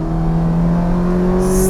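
Ferrari 430 Scuderia engine revving hard under load, a steady loud droning howl that climbs in pitch near the end, heard from inside the car on a canyon drive.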